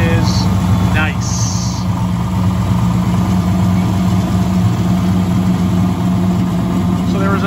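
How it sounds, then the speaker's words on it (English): A 1968 Dodge Charger with a 426 Hemi V8 runs steadily with a loud, even low rumble, a constant idle-like drone heard close throughout while someone talks over it. "So listen to this 426 Hemi motor."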